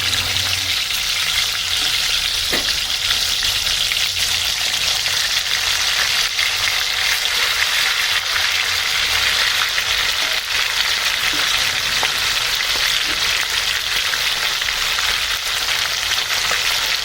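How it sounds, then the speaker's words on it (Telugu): Chicken pieces frying in hot oil for chicken mandi biryani, a steady dense sizzle that runs loud and unbroken, with a few faint stirring clicks and no voices. "ఆయిల్ వేడైన తర్వాత ఈ చికెన్ పీసులు వేసుకొని ఫ్రై చేసుకోవాలి"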